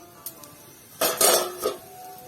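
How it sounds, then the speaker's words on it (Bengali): A metal lid lifted off a kadai of simmering potol on the stove, with a couple of light clinks and then a louder clatter of metal on metal, close by in a quiet kitchen. "এবার 10 মিনিট পরে আমি কড়াইয়ের ঢাকনাটা খুলবো।"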